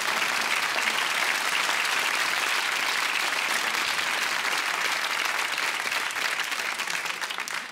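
A studio audience at a German comedy show breaks into sustained applause, dense and even clapping from many hands holding at full strength before fading slightly at the end.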